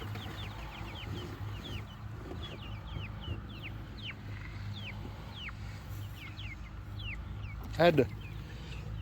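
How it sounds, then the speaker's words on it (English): Young chickens cluck and peep near a coop, with a scatter of thin repeated chirps over a steady low farm hum and one louder squawk near the end, and a person speaks briefly. "Figure I'd give you a little chickie time. Who doesn't like watching chicks?"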